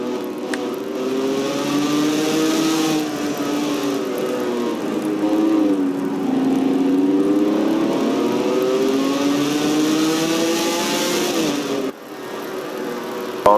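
Onboard engine of a NORLA supercar racing at Valkenburg Circuit, a loud, steady roar whose pitch rises and falls through gear changes for the whole stretch, with a brief dip near the end.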